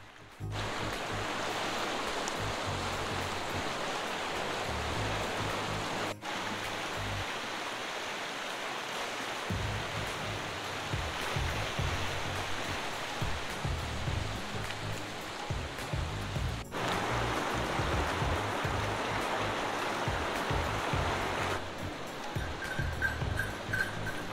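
A cold mountain river in Siran Valley, Mansehra rushes steadily throughout, a constant broadband wash of flowing water with no voices, near and fairly loud.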